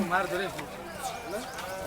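Lambs bleat repeatedly at the Kadiri livestock market in a close, wavering chorus of cries, with people talking over and between them.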